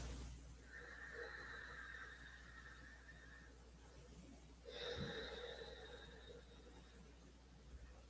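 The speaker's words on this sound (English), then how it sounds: "Press the tongue into the roof of your mouth and big exhale." Two deep, breathy exhales, the first long and steady, the second starting with a louder push about halfway through, both close and clear over a low background hum during a gentle yoga breathing practice.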